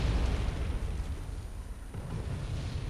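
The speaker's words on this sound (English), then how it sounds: "artillery is going to rain everywhere" Continuous low rumbling booms of artillery shell explosions rain down in Wargame: European Escalation, dense and loud throughout with no clear gaps between blasts.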